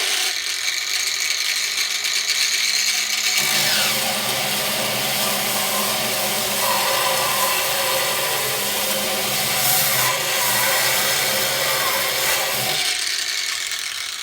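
A Metabo W18LBL9-125 cordless angle grinder runs at full throttle, a loud, steady high-pitched whine that holds without a break for about ten seconds, close by, with quieter motor noise before and after the burst.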